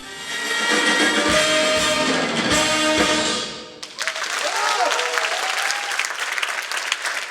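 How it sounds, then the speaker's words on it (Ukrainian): Stormy audience applause at a jazz day concert in the Tsentralnyi Palace of Culture, loud and sustained clapping over ringing music at first, then a brief dip before the clapping carries on with whistles and cheers. "Сяючі очі та бурхливі оплески"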